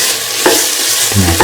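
Lemon carrot rice with coconut milk stirred in a frying pan, a spoon scraping through the rice in two distinct strokes over a low steady sizzle, close and fairly loud, with no voices.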